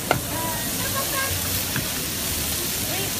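A potato omelette with garlic and parsley sizzles steadily in a pan at an outdoor night market, a constant bright frying hiss running under lively crowd chatter and nearby voices.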